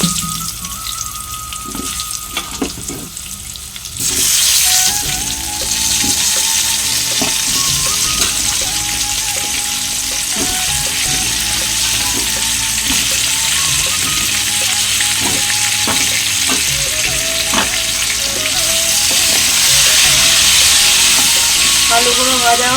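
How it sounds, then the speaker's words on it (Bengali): Cut potatoes fry over a low gas flame in a pan with spices, a steady close sizzle running throughout, swelling louder after a few seconds, with occasional stirring knocks. "আলুগুলো ভাজা হোক"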